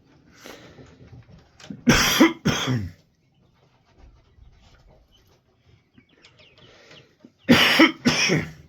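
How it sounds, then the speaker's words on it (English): A man coughs hard in two separate bursts, each a rough cluster of two or three hacks, as he clears dust from his throat after days of tilling fields. Faint rustling and a few quiet farmyard sounds fill the gaps between coughs. "Now I'm trying to cough it out."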